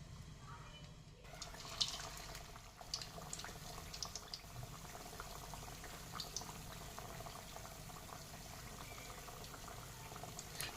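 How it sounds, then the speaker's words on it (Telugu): Sweet corn vadas frying in hot oil, a steady bubbling sizzle that holds evenly throughout with small crackles and pops, close and alone without talk. "ఇప్పుడు దీనిని ఆయిల్లో వేసుకోవాలి."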